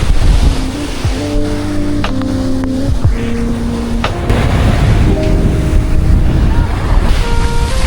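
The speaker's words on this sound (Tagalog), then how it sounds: "Ang sarap ng tunog ng dagat." Ocean waves wash continuously onto the shore, with wind buffeting the microphone and faint tones drifting over the steady surf.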